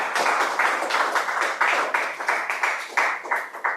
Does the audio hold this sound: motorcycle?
no